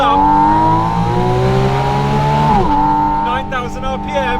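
Porsche 718 Spyder RS engine screaming at high revs up toward 9,000 RPM, a steady loud rising howl that dips sharply on an upshift and then carries on, with a voice speaking briefly over it at the end.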